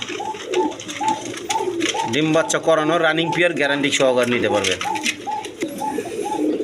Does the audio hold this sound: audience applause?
no